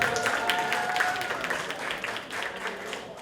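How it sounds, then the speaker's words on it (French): An audience at the Miss Fashion Dakar 2013 pageant claps and cheers in a lively burst of applause that slowly tapers off, with a few voices mixed in. "Aïda Neves, applaudissements."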